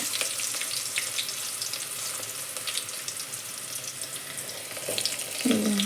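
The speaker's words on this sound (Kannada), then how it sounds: "ಈಗಲೇ ಎಣ್ಣೆ ಕಾಲತಿ ಉಳ್ಳಾಗಡ್ಡಿ ಹಾಕಿ ನೋಡ್ರಿ" Onions frying in hot oil with cumin and mustard seeds for pulao, a steady soft sizzle and crackle close by, with a short bump of utensil noise near the end.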